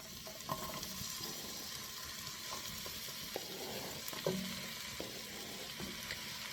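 Thinly sliced celery, minced shallots and garlic sauté in melted butter, giving a soft, steady sizzle with occasional light stirring scrapes, fairly faint and close, with no voices.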